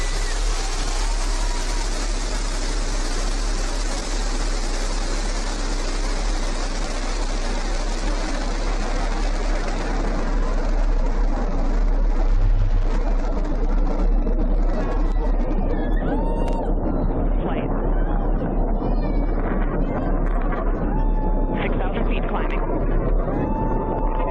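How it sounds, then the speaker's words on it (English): The Blue Origin New Shepard rocket lifts off with a loud, continuous broadband engine roar that fills the whole stretch, with faint commentary voices underneath. "Liftoff. New Shepard has cleared the tower."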